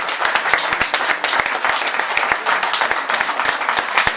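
Audience at a lecture on the discovery of gravitational waves clapping after the talk, a sustained round of many hands with distinct close claps standing out over the crowd.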